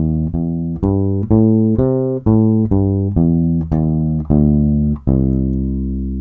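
A major blues scale played note by note on a bass, about a dozen evenly spaced sustained notes stepping upward then back down, with the added flat third, clear and alone.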